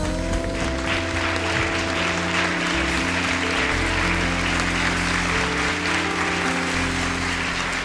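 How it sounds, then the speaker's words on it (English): Audience applause at a comedy show for the host, steady and sustained with sustained music tones playing under the clapping. "Your applause is like gasoline filling up my car."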